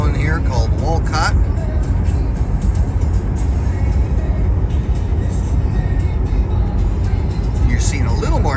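Interstate traffic approaching Fargo, North Dakota, rolls past as a steady low rumble of cars and engines, with someone talking over the constant road noise.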